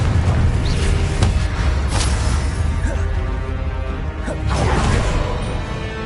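Confringo blasting spell explosions from combat in Hogwarts Legacy, repeated loud booms and crashes with whooshing swipes in a dense, continuous battle din.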